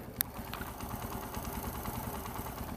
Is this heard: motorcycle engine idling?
yes